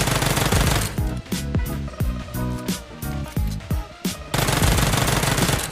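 Rapid submachine gun fire in a video game, a loud burst of fast repeated shots with a short pause in the middle, close and dominant over dense background game noise.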